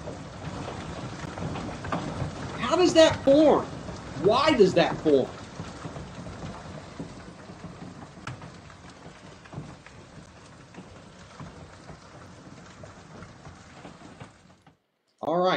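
A massive hailstorm with rain and thunder pounds down in Arkansas, a dense continuous hiss and patter of hitting ice and water, with people talking over it and a brief break near the end.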